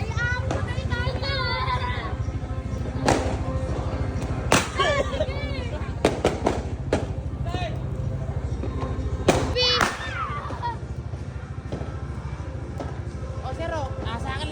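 Sharp firecracker bangs pop at irregular intervals at a New Year celebration, amid excited children shouting and chattering nearby.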